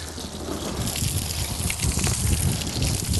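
Water sprayed from a nozzle rinses down a motorcycle, a steady close hiss and splatter of spray that runs without a break.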